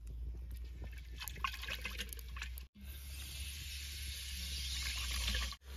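Cooking oil is poured into two large pots over an outdoor fire for a country-chicken biryani, giving a soft, continuous liquid trickle over a low steady rumble, fairly quiet with no talking.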